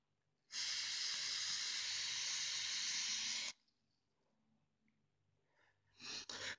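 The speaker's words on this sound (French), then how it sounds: "Ça envoie pas mal de vapeur." An EHPRO Sthorm vape box set to 20 watts lets out one long, steady, loud hiss of vapour lasting about three seconds. It cuts off sharply, and a short breathy puff follows a little later.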